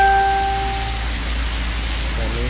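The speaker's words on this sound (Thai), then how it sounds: "แต่นี้ฝน" Heavy, continuous rain falls outdoors as a dense, loud wash of noise. A few faint tonal sounds fade out at the start.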